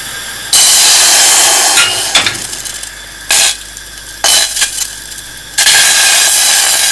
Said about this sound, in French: si on laisse la casserole vide chauffer pendant quelques minutes puis que l'on verse un petit peu d'eau